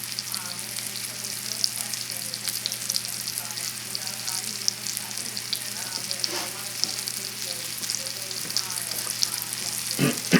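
Thick pieces of veal rack sauté in a hot pan, giving a steady close sizzle and crackle with sputtering pops that swell near the end, with no talking.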